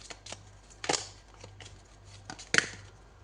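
Tarot cards are shuffled and drawn, two crisp riffling swishes close by with light handling ticks between them, fairly quiet and with no talk.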